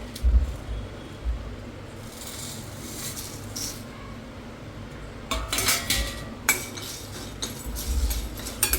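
Whole garam masala spices dry-roasting in a pan over low heat, with metallic scraping and clinking of a utensil against the pan coming in bursts, loud and close, between quieter stretches.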